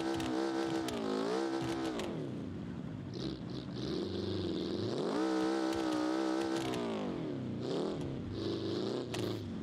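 An off-road vehicle in BeamNG, a powerful turbocharged machine with little traction, revs hard and loudly, its engine pitch climbing, dropping and surging again as the throttle is worked, with mechanical rattles over the top; no talking.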